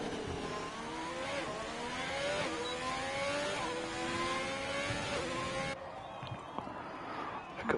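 A Formula 1 race car on an outlap of the Azerbaijan circuit in a video game, its engine whining high and climbing in pitch through repeated gear changes, steady and loud, then dropping to a quieter, duller tone near the end.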